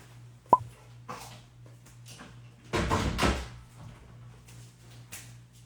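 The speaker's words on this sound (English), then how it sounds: "let me close my door." An indoor room door being shut: a sharp knock-like impact near the start, then scraping and a louder thud of the door closing, followed by quieter handling noises.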